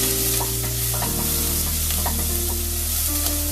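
Onion softening in a pan for a parsnip cream soup, a loud, even sizzle with scattered small crackles over a steady low hum, close and continuous without talk.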